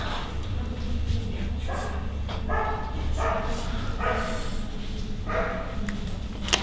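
A dog barks and yips in short repeated bursts on a French film set, fairly close, over a steady low rumble of background noise.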